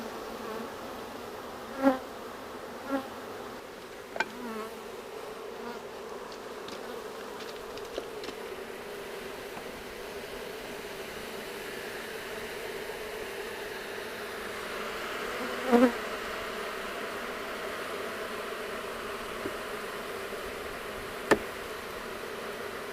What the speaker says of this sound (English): It's a great sound hearing the girls buzzing. They are busy as bees, you know.